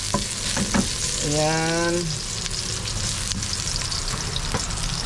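Ginger sizzles as it is stir-fried in a pan for pinakbet, a steady broadband frying hiss running throughout; a short voice speaks briefly near the start.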